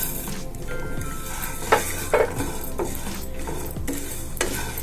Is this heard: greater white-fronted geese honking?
no